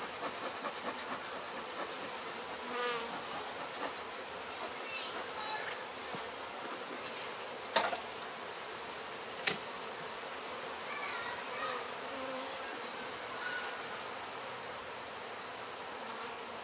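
A steady, dense drone of honey bees fills the whole stretch, a continuous buzzing hum like many bees swarming close by at a hive, with a few faint clicks.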